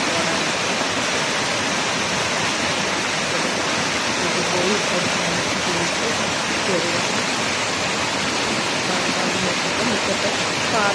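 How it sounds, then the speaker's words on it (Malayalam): A fast-flowing stream rushes with a steady, dense roar of water that holds at an even loudness for the whole stretch, with no pauses. "നല്ല ഒഴുക്കുള്ള തോടാണ്"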